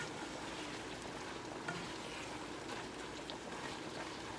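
Ground beef and sausage with seasonings simmering in a pan on high heat give a faint, steady sizzle and bubbling that holds evenly throughout, with no voices.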